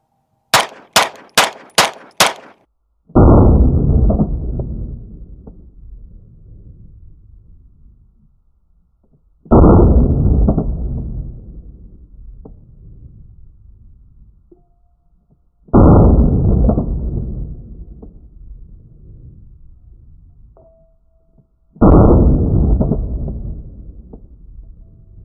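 A Girsan Witness 2311 9mm pistol fires 115-grain rounds in five sharp shots, the first quick burst close together, followed by four much louder, widely spaced booming reports, each ringing out and decaying, with no talking.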